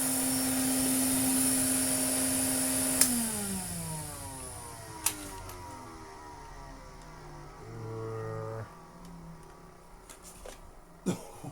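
A Hoover Constellation 867A vacuum cleaner runs roughly, its motor whine steady at first, then sagging and wavering in pitch as it struggles, with a few clicks and knocks, close and fairly loud with no talking.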